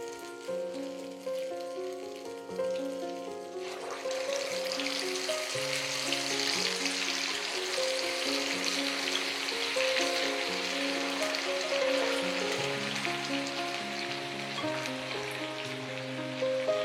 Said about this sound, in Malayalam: പതിയെ നമുക്ക് ഫ്രൈ ചെയ്തെടുക്കാമല്ലോ